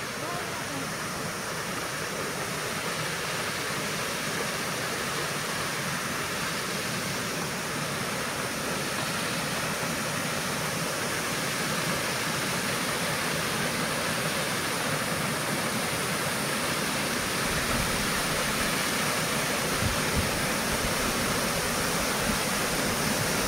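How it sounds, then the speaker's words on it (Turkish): Clear mountain waterfall in a cold winter village setting, a steady broadband rush of falling water that holds constant and loud throughout, with wind adding to the roar. "şu şelaleye bakar mısınız?"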